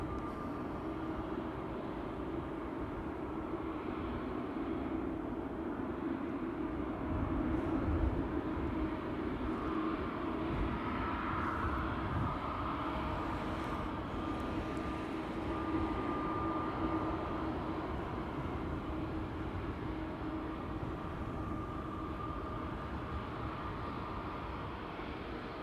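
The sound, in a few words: KLM Airbus A321neo airliner at Amsterdam Schiphol Airport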